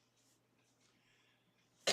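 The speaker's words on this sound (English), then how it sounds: "I'm still coughing a bit" A single short, sharp cough bursts out near the very end after nearly two seconds of quiet room tone, loud and close, with no talking.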